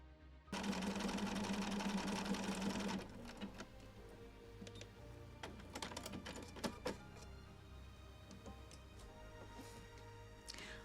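A sewing machine runs loud and fast in a short burst while stitching a double blanket stitch on appliqué fabric, then stops, followed by quieter clicks and mechanical ticks as the fabric is adjusted.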